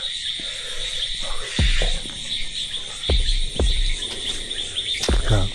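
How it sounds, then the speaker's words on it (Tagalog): In a forest on Mt. Makiling near an abandoned resort, a large bird gives repeated sharp calls at intervals, set against a steady high insect drone. "Ano yun? Ibon, malaki."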